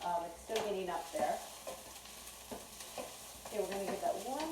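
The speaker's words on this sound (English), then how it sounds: "Let's give this a quick stir." A pot being stirred on the stove while corn pasta cooks, with intermittent scraping and clinking strokes over a low background sizzle and boiling bubble, fairly close and moderate in level, no talking.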